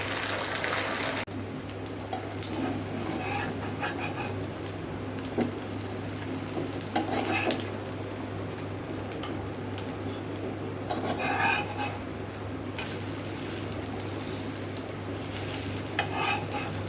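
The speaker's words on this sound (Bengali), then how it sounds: "রুটি ভেজে নিচ্ছি আর সাথে ডিম ভেজে নিচ্ছি" Roti and eggs fry in a pan with a steady sizzle, punctuated by occasional scraping and stirring with a utensil against the pan, close and continuous throughout.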